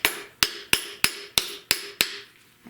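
A mallet handle strikes a metal part on a 1970 Buick Wildcat convertible seven times at an even, steady pace, each sharp ringing hit close and loud, decaying quickly before the next.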